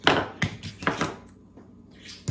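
A knife cuts the end off an aloe vera leaf, giving a few sharp, close thunks against a cutting surface in an uneven rhythm, with quiet gaps between them.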